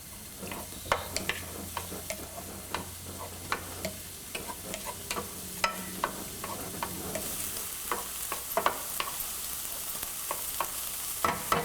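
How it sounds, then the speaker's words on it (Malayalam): Sliced onions with salt sautéed in a pan for a brinjal mushroom theeyal, a steady low sizzle overlaid with frequent light scraping and tapping from a stirring spoon. "ആവശ്യത്തിന് ഉപ്പും ഇട്ട് വഴറ്റുക"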